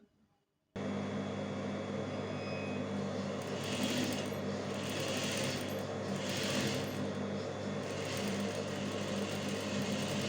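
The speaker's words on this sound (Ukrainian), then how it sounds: "прокладаємо строчку" Sewing machine running steadily as it stitches a double lingerie seam, a continuous close mechanical hum and whir with slight pulsing, no talk.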